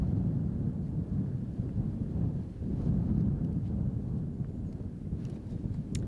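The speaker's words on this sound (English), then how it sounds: "Oh, wow, that wind is ripping." Strong wind rips across an outdoor disc golf course, producing a steady low roar and buffeting rumble against the microphone that holds for the whole stretch, with no one talking.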